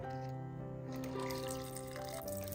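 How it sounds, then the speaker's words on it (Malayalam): Chickpea cooking water pours into a pan with bay leaf and star anise, a soft, continuous liquid splash under a steady tonal hum and a faint voice in the background. "ഇനി നമ്മൾ കടല വേവിക്കാൻ വെച്ച വെള്ളം ഇതിലേക്ക് അങ്ങ് ഒഴിച്ചു കൊടുക്കാം"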